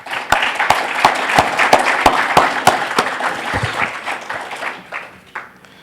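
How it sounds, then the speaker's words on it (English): Applause from a crowd at a 2014 Democratic candidate forum in Arkansas, a steady burst of many hands clapping with a few sharp standout claps, fading out over several seconds. "Let's give him another round of applause"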